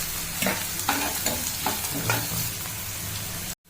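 Green chilies stir-fry with ginger-garlic for a samosa filling, giving a close, loud sizzle with rhythmic stirring scrapes about every half second before the sound cuts off abruptly.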